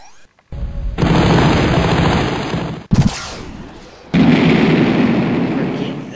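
Heavy gunfire and explosions in a Godzilla video game: loud sustained bursts of firing, a sharp cutoff, a fresh blast, then more rumbling explosive fire, close and dense.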